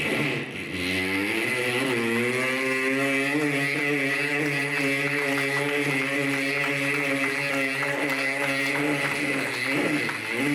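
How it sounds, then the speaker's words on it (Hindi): Motorbike engine ridden around the wall of a fairground well of death, a continuous loud droning roar with rising and falling pitch as the rider circles, steady throughout with no talk. "इसमें से केवल मैं 15 सेकंड आपको बाइक की आवाज सुनाऊंगा।"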